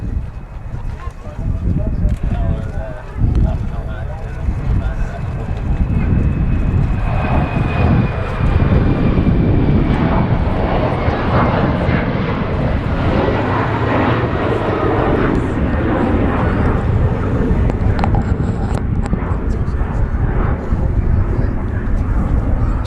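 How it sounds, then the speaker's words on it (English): A departing Austrian Airlines Embraer jet bound for Vienna roars off from Manchester Airport, a loud, sustained broadband engine rumble that swells and holds steady, with voices talking over it. "Austrian Airlines just departing there for Vienna."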